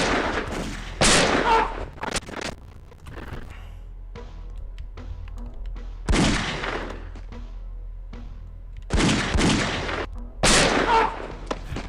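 Gunshots in the X-Files video game ring out in heavy, booming bursts, one loud blast after another at irregular intervals, with lower rumbling between them and no speech.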